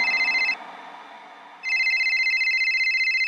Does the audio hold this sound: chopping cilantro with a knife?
no